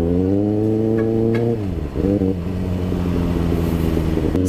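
A heavy engine drone with strong steady harmonics dips in pitch and recovers, like a large truck rumbling past close to a Kawasaki Ninja ZX6R on the road, loud and continuous with wind noise.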